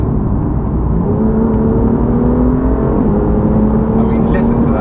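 A BMW M2 accelerates hard on a rough road surface, its engine and exhaust a loud, continuous drone that rises in pitch through the gears, heard from inside the car.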